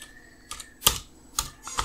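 Typing on a computer keyboard while writing code, a few sharp separate keystroke clicks with short gaps, near and fairly quiet, with no talking.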